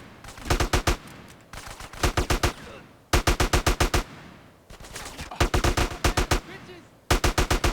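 Rapid automatic gunfire in a GTA San Andreas gang territory fight, loud bursts of several shots each repeating in quick volleys with short gaps between, some distant shots and faint voices underneath.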